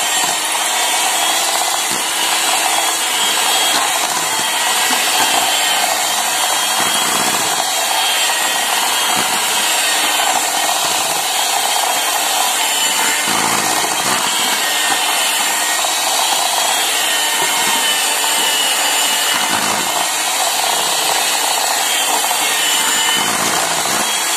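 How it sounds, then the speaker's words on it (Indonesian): An electric hand mixer beats margarine for cookie dough, whirring at a loud, constant high pitch without pause, close by, with faint scraping of the beaters in the bowl. "Kemudian ini saya mixer ya sebentar saja, sekitar kurang lebih 1 menit."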